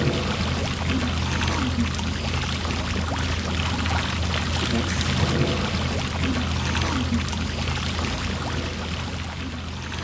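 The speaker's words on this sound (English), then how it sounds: "The density of fish is so high that the water appears to be boiling." A dense school of herring churns the sea surface in Alaska's Inside Passage, giving a continuous close splashing, pouring wash of water, steady and fairly loud with no voices.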